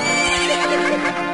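A horse in the video game Majora's Mask lets out a loud, wavering whinny, close and clear, with a few faint hoof-like thumps beneath it and no voices.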